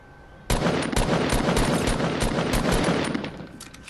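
Rapid automatic rifle fire in a video game, a steady stream of close, loud shots lasting about three seconds before tapering off, with no talking over it.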